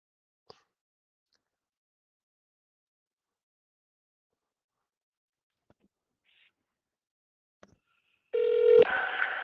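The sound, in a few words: telephone dialing a number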